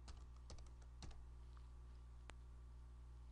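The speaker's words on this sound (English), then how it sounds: "start typing the label" A computer keyboard clicks as a label is typed in imaging software: a few quick, quiet keystrokes in irregular bursts, then a single sharper tap near the end, over a low steady hum.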